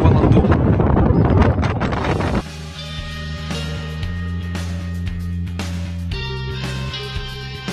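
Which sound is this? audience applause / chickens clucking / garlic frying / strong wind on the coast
strong wind on the coast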